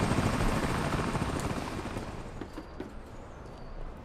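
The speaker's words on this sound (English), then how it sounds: "is that a helicopter after me?" A helicopter in the video game American Arcadia chases the player, a steady rotor roar filling the clip and slowly fading slightly, with no talk.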